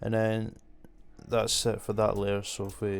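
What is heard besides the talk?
No everyday noises stand out.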